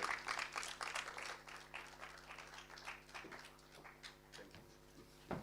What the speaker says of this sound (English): So, Her Excellency and Sophie Ave, can we please clap as she comes up?